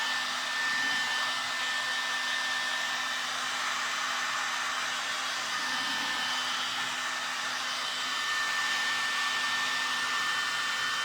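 A hair dryer blows steadily on a freshly painted stencil, a loud, constant whirring roar with a thin whine that holds through the whole stretch without pause.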